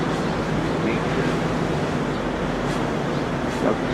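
Ocean surf at the shore fills the air as a steady broadband wash of rolling waves and wind, with a calm voice speaking over it.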